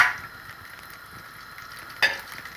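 Butter melts in an oiled pan for egg fried rice, giving a steady close sizzle with a brief utensil clink partway through.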